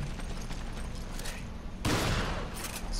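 Shotgun fire in the PS4 game Resident Evil 5: one loud, sharp blast cuts in partway through over a low, rumbling game background, with no talking.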